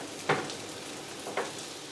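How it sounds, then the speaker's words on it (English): Buttered bread toasting in a hot pan for a Korean street toast sandwich, giving a soft, steady sizzle with two brief louder crackles of fat, close by and with no talk. "place the bread in the pan to toast it"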